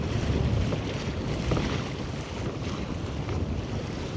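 Kayak pushed by a Garmin Force trolling motor running wide open into the wind on open water, a steady loud rush of wind and water noise against the microphone throughout, with no speech.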